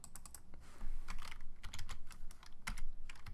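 Keys clatter on a computer keyboard in an irregular stream of soft, close keystrokes with brief pauses, with no other sound.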